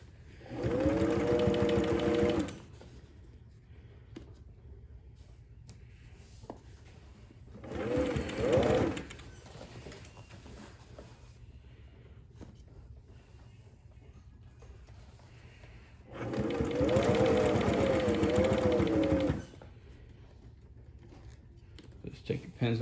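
A sewing machine stitches a pant hem in three separate runs of fast, even whirring, the first and last lasting a few seconds and the middle one shorter, with quieter pauses between them.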